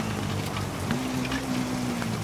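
Steady rain hisses in the Dakar 18 motorcycle rally racing game, a constant wash of downpour layered over a low, droning engine hum.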